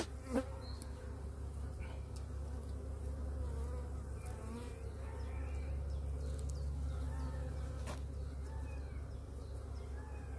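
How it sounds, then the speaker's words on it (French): Honeybees at an apiary, kept for raising starter colonies, fill the air with a steady, dense buzzing swarm close by, individual bees zipping past the microphone over a low constant hum, with no talking. "c'est des abeilles qui me servent en fin de compte"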